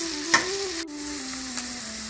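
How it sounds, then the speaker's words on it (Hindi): Onions fry in a pan under a low steady sizzle, with a couple of brief utensil knocks and a faint humming tone running beneath. "अब हमारी प्याज फ्राई हो रही है।"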